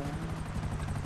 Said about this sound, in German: Geh mit dem Heli in die Luft.